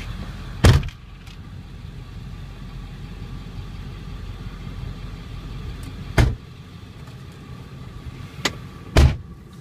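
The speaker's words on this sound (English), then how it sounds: "Let's take you on a quick test drive." A 1999 Ford F350 Lariat crew cab 4x4 with the 7.3 diesel on a test drive, a low steady engine drone and road rumble heard from the cab, with a few sharp thumps from the door or cabin.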